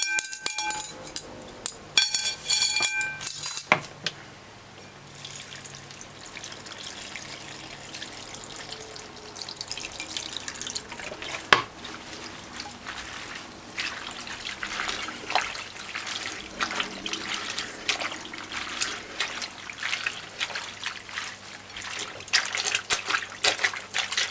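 Tap water running and splashing over callaloo leaves during a second rinse, a steady trickling wash with occasional clinks of a glass bowl, close and continuous with little talk.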